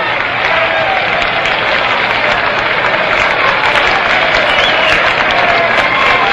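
Crowd at a 1961 baseball game in Cincinnati cheers and applauds steadily as a former Yankee manager walks toward an exit, a dense, continuous roar heard through an old-time radio broadcast.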